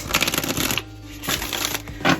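A tarot card deck is riffle shuffled up close, with bursts of rapid flapping and riffling, a brief pause, then a final quick riffle and snap.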